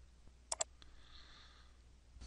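A computer mouse clicked to select OK in Diacom Marine diagnostic software: a quick close double click, then near silence.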